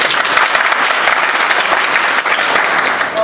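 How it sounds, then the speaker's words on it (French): Sustained, dense applause from an audience at a Guinean producers' and comedians' association gathering, loud and steady for the whole stretch with no talk over it. "Applaudissez pour lui."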